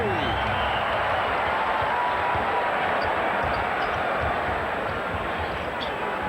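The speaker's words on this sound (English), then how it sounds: "You hear the buzz in the crowd, can't you?" Dense, steady crowd roar fills a basketball arena during a 2003 Wizards–Lakers NBA game, loud and continuous throughout, with faint claps and a commentator talking over it.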